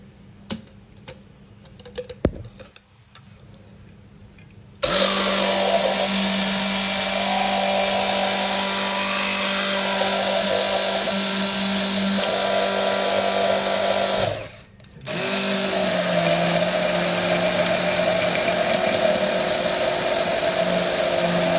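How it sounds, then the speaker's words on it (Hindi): A hand blender whips coffee, whirring loudly and steadily for many seconds, briefly cutting out and then starting again, after a few quiet clicks and taps. "तो अब इसको हम हैंड ब्लेंडर से अच्छे तरीके से ब्लेंड कर लेते हैं।"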